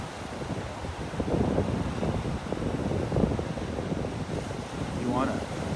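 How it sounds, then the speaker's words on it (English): A steady sea breeze blows across the open waterfront at the Naples Pier, a continuous low rushing and buffeting against the microphone that lasts throughout with no pause. "Feels like the wind is coming in from the northwest here. A little breeze, not a wind."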